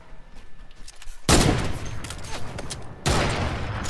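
Two sharp, heavy gunshots from a video game sniper rifle crack over a noisy background of faint voices and movement, each blast followed by a lingering rumbling tail.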